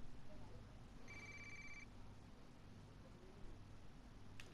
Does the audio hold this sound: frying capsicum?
no